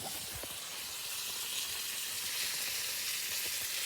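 Steady loud sizzle of flour-coated chicken frying in a pan, browned on one side, a continuous close hiss with small crackles and pops throughout.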